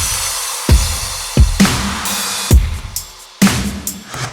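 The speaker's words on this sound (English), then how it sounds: "So right now, our drums sound like this." A produced drum track with kicks, snares, claps, snaps and cymbals plays a steady groove. Punchy low kicks and sharp bright hits land in a regular pattern, loud and upfront, with no voices.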